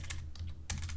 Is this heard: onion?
no